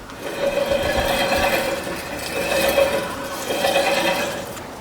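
Homestead sawmill mechanism running after a 25 foot-pound torque check, a steady mechanical whir that swells and eases in three pulses, close by and without talk.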